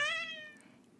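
A cat sound effect in a children's read-aloud gives a single clear meow that starts bright and close, then slides downward in pitch and fades within a second.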